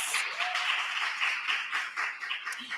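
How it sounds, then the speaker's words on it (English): An audience at a health event on smoking applauds its sponsors, with brisk continuous clapping from many hands that holds steady, then thins slightly toward the end. "Give them a round of applause."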